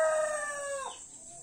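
A rooster in a backyard chicken coop gives a single drawn-out crow, loud and fairly close, its tone bending down at the end before trailing off into quiet background chirps.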